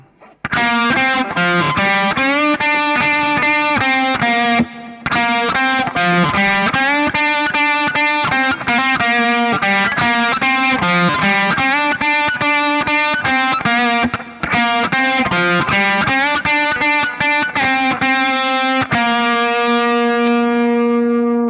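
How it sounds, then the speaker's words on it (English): An electric guitar through heavy distortion from an amp plays the main riff of a song in a steady, loud, chugging rhythmic pattern, alone for about twenty seconds before ending on a sustained ringing chord. "Let me take a little bit of distortion here on my camper."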